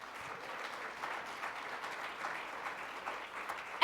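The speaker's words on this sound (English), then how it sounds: "So let's give them a big round of applause." A civic audience at a city, county and state community event claps for the sponsors, a soft, steady wash of applause held for a few seconds at a low, somewhat distant level.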